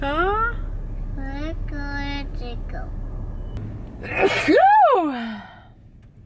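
A single sharp sneeze near the end, close by, after a voice and short adult speech, with a car interior hum underneath.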